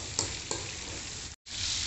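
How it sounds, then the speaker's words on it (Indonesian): Chicken pieces frying in hot oil in a wok: a steady, close sizzling hiss with a couple of sharp crackles near the start and a brief break before the frying resumes. "Ayam goreng ni dah nak masak dah."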